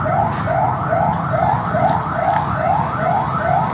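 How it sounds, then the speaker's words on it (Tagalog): Emergency vehicle sirens wailing after an earthquake in Maasim, Sarangani, a loud continuous rising sweep repeating rapidly over rumbling background noise. "Ang palibot karon na puno sa mga uwang, sa mga sirena."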